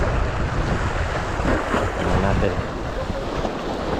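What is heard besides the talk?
strong wind at sea on a boat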